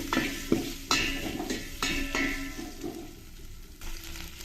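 Onion and curry leaves frying in hot oil with spluttering mustard seeds, a steady close sizzle broken by several sharp pops and stirring clatters, no voices.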